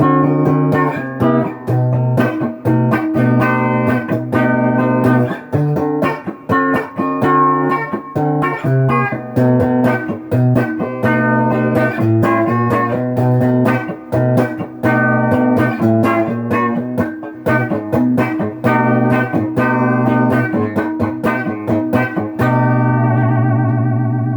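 Loud, driven electric guitar through a stock humbucker pickup, with heavy distortion and effects, playing continuous chords and riffs for over twenty seconds with steady, full tone and no talking.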